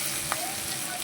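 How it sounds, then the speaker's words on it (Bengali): Onion and green chili sizzle hard in hot oil in a wok, a loud, continuous crackling hiss that stays steady and close throughout, with one brief sharp tap partway through. "তেল দিয়ে দিলাম কড়ায়, পেঁয়াজ কাঁচা লঙ্কা কোচানো"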